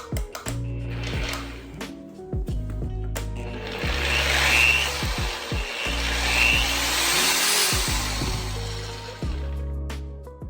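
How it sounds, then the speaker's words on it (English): An Eastwood Contour SCT surface conditioning tool runs at full speed with a loud, steady motor whine and broadband grinding hiss, its pitch dipping and recovering several times as it loads and unloads, with no talking. "it sounds very similar to a polisher"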